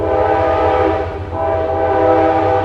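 Trains passing on both sides at close range, a loud, steady rumbling roar with a sustained horn-like tone layered over it, continuous throughout without pause.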